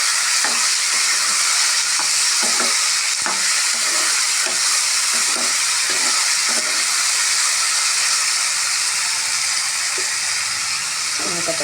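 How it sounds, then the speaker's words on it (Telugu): Tomatoes frying in hot oil give a steady, close sizzle throughout, broken by scattered taps and scrapes of stirring in the pan, with no voices. "టమాటా వేసుకొని టమాటా కూడా ఆయిల్లోనే ఫ్రై చేసుకోవాలి."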